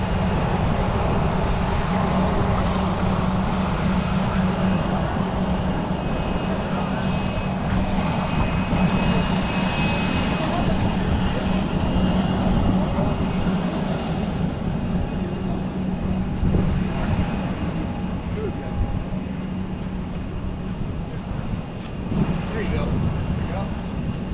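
Radial piston engines of a C-47 transport plane being turned over by hand-pulled propellers before a flight, heard as a steady low mechanical rumble and drone with outdoor noise, while people talk nearby throughout.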